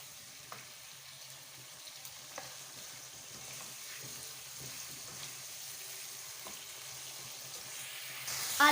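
Sliced potatoes fry in a pan for aloo baingan sabzi, a soft, steady sizzle with light scattered scrapes of stirring, fairly quiet throughout and a brief louder clatter at the very end.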